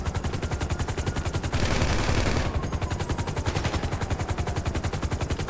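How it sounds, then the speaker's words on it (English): Rapid automatic gunfire from police in the game GTA 5 rattles loud and close in continuous bursts, broken by a short noisy blast before the steady volley resumes. "I'm getting shot by the cops."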